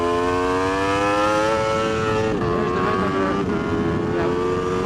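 An Aprilia RSV4 RF superbike's V4 engine pulls hard in first gear, its loud, steady whine climbing in pitch before a brief shift in tone, with heavy wind rush over the close-miked ride.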